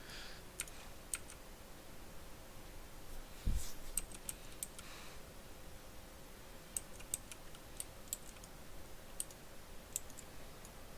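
Sparse, faint clicks from a computer keyboard sound as a key is pressed during a Farming Simulator 15 logging session, isolated taps scattered over a quiet background hum with a brief soft thump near the middle.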